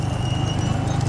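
Bullocks' hooves pound in a rhythmic, continuous clatter during a bullock cart race at Kaikudi, close and loud with a dense low rumble throughout.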